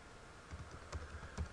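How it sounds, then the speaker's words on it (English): Computer keyboard typing, a handful of quiet close keystrokes in an uneven rhythm with soft low thumps, no talking. "If I were to type in, let's say, website"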